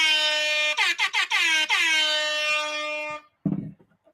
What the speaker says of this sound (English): Let me get my air horn for you, my sweet Melanie.